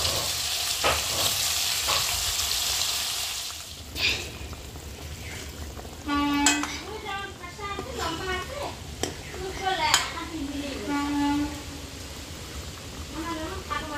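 Hilsa fish in mustard sauce sizzling and frying in a wok, a steady hiss with stirring clatter, loud at first and then settling under a voice and other talk nearby.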